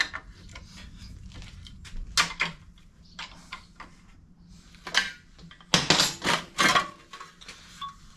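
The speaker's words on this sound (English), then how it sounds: "I'll just hammer that back down again." Sharp hammer strikes ring out on a metal body panel of a 1978 MGB GT, a few isolated hits early, then a quicker cluster of loud blows near the end.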